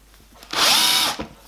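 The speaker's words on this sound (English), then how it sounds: "I reinforce the position of the center pops with a small diameter drill using the hand drill" A hand drill with a small-diameter bit bores into the center-punch marks on a tube plate for a miniature steam locomotive, giving a single brief, close whirring burst of about half a second.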